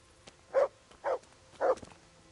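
A dog barks three times at a steady pace inside the game Kingdom Come: Deliverance, each bark short and moderately loud with quiet gaps between.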